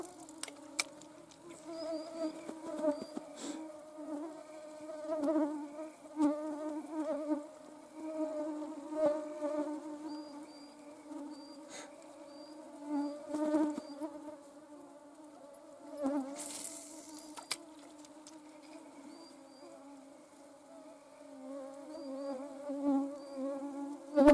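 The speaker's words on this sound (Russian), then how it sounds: "Это комарье." A swarm of mosquitoes whines steadily outdoors at a fishing spot, a thin high buzzing that swells and fades as insects pass near, faint and continuous with no talk.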